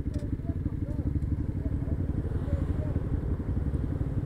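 An orange KTM motorcycle's engine runs close by with a steady, dense low chugging rumble that holds throughout, with faint muffled voices in the background.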